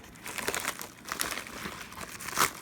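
A paper envelope crinkles and rustles in a few close, uneven bursts as it is handled and opened, with no voices.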